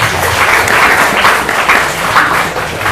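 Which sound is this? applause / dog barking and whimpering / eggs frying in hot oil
applause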